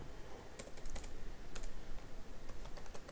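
Rapid keystrokes on a computer keyboard while entering a formula in a spreadsheet, a quick irregular burst of clicks heard close over a faint steady hiss, with no voices.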